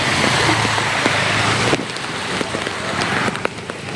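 Heavy rain pouring down in Junagadh city, a dense hiss of rain on surfaces with sharp drips and splashes, loud at first, then dropping to a lighter, patchier patter.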